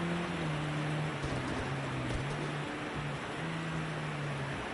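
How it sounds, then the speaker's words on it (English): Light rain drizzles steadily in a touring car racing game, a soft continuous patter over a low, droning engine hum that shifts pitch in long sustained stretches, with no talking. "As this rain drizzles to an end."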